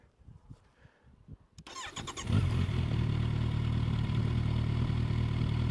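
A Kawasaki Ninja 1100 SX SE motorcycle fires up after a few faint clicks, its exhaust settling into a steady, loud, close idle with a deep even rumble and no talking.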